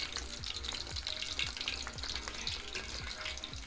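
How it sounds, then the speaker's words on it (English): Sausages frying immersed in hot oil sizzle and crackle steadily, with periodic stirring clinks and scrapes in a regular rhythm, close and unaccompanied by speech. "You can see they are already cooking well. Just make sure they are well immersed in the oil"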